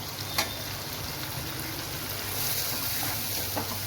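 Tomato and spice masala sautéing in oil in a pan for egg biryani, a steady low sizzle with faint stirring scrapes and a couple of soft utensil knocks, close and fairly quiet throughout.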